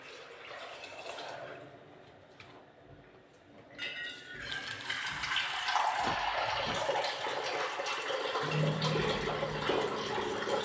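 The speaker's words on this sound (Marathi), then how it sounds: "आता पाणी टाकू" Water is poured into a pot of khichdi, a rising, gurgling splash that grows louder and steadier toward the end, heard close up with no talk.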